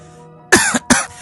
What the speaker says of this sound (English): you've been sneezing and coughing persistently for the past 3 days